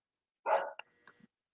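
A neighbor's dog gives a single sharp bark nearby, followed by a couple of faint trailing yips in otherwise quiet surroundings.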